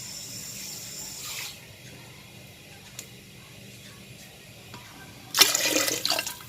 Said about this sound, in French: je vais mettre un petit peu d'eau